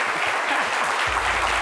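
A French midday TV studio audience applauds, a dense continuous wash of clapping throughout, with faint voices underneath.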